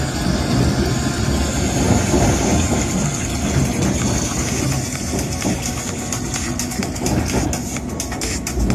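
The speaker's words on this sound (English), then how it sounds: "Mind the gap between the train and the platform." London Underground District Line train running through a tunnel, a loud continuous rumble with rattling and clicking wheel noise that rises into faster clatter toward the end.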